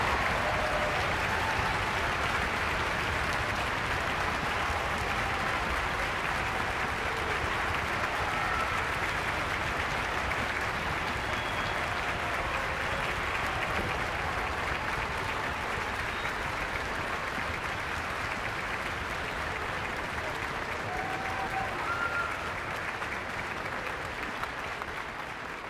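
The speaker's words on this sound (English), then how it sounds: "help me give an amazing round of applause and a standing ovation for Ms. Claribel Escobar" Sustained, dense applause from a large concert audience giving a standing ovation to a retired school arts-office secretary at a high school music festival, steady and loud for the whole stretch with no talk.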